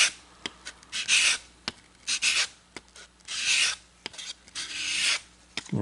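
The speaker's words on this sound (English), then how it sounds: "Real simple, just a sanding block, and just taking and stroking this" A sanding block rubs along the edge of a wooden jewelry case in repeated raspy strokes, close and fairly loud, about seven to eight passes with short pauses and light taps between them.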